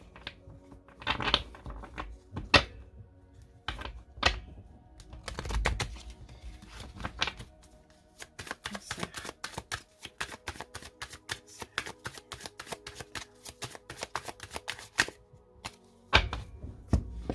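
Tarot cards being shuffled and cut by hand, scattered soft thumps and slaps followed by long runs of quick crisp riffling clicks, close and fairly quiet with no talking.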